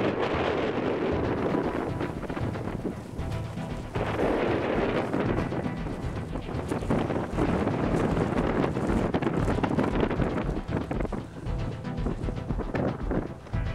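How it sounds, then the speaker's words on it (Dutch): Strong wind sweeps through snowy mountains along the Kungsleden trail, roaring and buffeting the microphone in loud, gusty bursts without pause. "Een flinke hoop sneeuw, harde wind."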